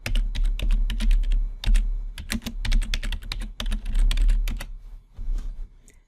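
Fingers type a Google image search for royalty-free pictures on a computer keyboard, a close, steady patter of key clicks in short bursts with brief pauses, no voices.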